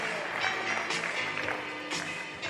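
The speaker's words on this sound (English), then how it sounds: "round of applause for the Frias family" An audience at an awards ceremony applauds the Frias family, a soft, fairly distant patter of clapping that swells in a few brief bursts before fading.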